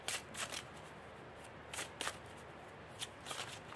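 Tarot cards are shuffled and drawn in soft, quiet riffling bursts, several brief papery flurries separated by short pauses, close and faint without talk.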